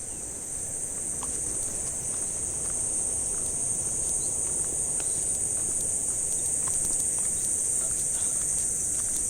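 Steady, high crickets chirping fill the air continuously on a forest road near a beach in Ratnagiri, a dense insect chorus with a faint rustle of movement underneath.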